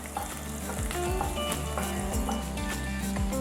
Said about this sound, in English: Saute a little.